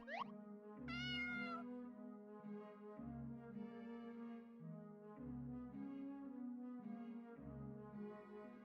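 A cartoonish cat meows repeatedly in a video game, several clear mews spaced about two seconds apart over a low droning musical background, with no talk.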